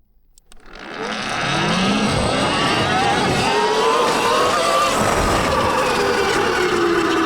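A Sur-Ron electric motorbike with a new 55 kW motor launches hard on tarmac, a loud rising whine and rushing road and wind noise building within a second and holding strong to the end.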